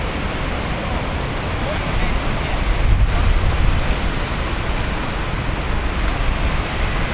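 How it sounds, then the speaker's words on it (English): An ocean storm brings a constant heavy roar of wind and crashing surf. The wind buffets the microphone, and a slightly stronger gust-and-wave surge comes midway. "It's a really cool storm."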